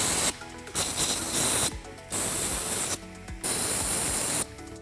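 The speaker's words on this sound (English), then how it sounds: "we're going to blow dust and debris from the bolt holes using an air blow gun" An air blow gun clears dust and debris from bolt holes in a short burst, then in three more long bursts. Each is a loud, close, steady hiss, with brief quiet gaps between them.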